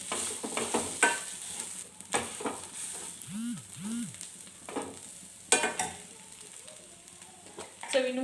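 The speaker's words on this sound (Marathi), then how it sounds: "जे आपण आलू बॉईल केलेले होते तर ते आलूचं सारण याच्यामध्ये टाकते आणि ते व्यवस्थित परतून घेते" A filling of boiled, mashed potato is sautéed in oil for bread pakoras. Soft sizzling runs under intermittent stirring scrapes and taps, with light background voice.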